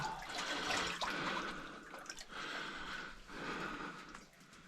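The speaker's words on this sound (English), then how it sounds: "I can hear a waterfall." Water falls and splashes inside an old gold mine, a continuous rushing wash echoing in the rocky tunnel.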